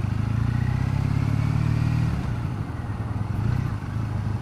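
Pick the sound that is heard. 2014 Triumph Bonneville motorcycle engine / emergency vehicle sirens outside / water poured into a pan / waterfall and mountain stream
2014 Triumph Bonneville motorcycle engine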